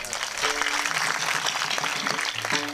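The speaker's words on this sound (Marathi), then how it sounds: "वाजवा टाळ्या" Applause from a kirtan audience honouring Bhagwan Baba, a steady wash of clapping heard through the whole moment, with a faint tonal hum beneath it.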